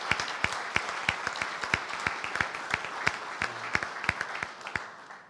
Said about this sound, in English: So let's give her a round of applause again.